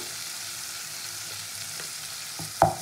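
Spice masala with turmeric and salt frying in a pan, a steady hiss of sizzling oil with soft stirring scrapes and a sharper knock near the end, no voices.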